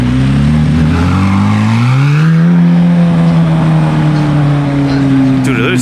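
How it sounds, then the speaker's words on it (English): A loud, high-revving supercar engine roars steadily, its pitch climbing as it accelerates, then holding a strong, raspy drone. "it literally sounds like an Aventador"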